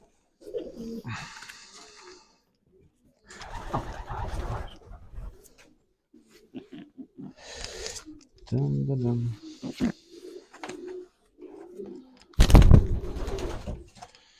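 Pigeons coo in low, throaty bursts between stretches of people talking nearby at a pigeon show, with a louder flutter or thump near the end.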